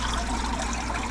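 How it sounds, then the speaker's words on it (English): Water is pumped up through a filter box on a 275-gallon aquaponic basin, giving a steady close gurgling trickle and rush of flowing water with no pauses. "The water pumps up through there,"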